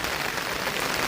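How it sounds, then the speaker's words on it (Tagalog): Heavy rain pours down during a stormy commute, a dense, steady hiss of drops hitting surfaces with no pauses. "Grabing lakas ng ulan."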